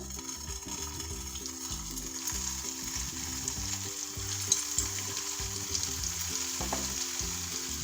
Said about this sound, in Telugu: మన కోఫ్తా బాల్స్ రెడీ అయిపోయి ఇప్పుడు దీన్ని డీప్ ఫ్రై చేసుకుందాము